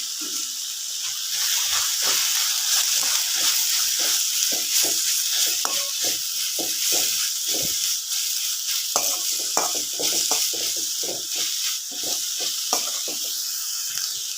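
Crushed ginger cooking in a hot pan, giving a steady, loud sizzle and hiss throughout, broken by repeated scrapes and clicks of stirring; no talking.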